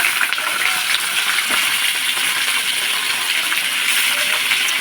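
Chicken pieces tipped into hot oil with mustard seeds and curry leaves, a bright, continuous crackling sizzle, close and fairly loud with no talk.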